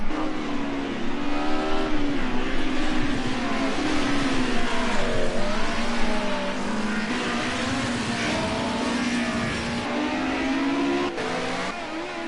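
Group A touring cars racing around the Bathurst mountain circuit, engines roaring steadily with a droning multi-car pack sound and shifting revs, loud and sustained throughout.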